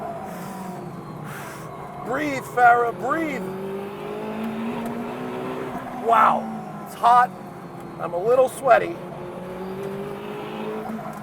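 A Czinger 21C hypercar on track hums through a sustained engine note with sharper bursts as it brakes and downshifts, loud and close, while a voice talks over it intermittently.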